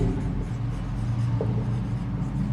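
During a lecture, a marker or chalk scratches and rubs steadily across a board, close up, in a continuous low scraping with no pauses and no talking.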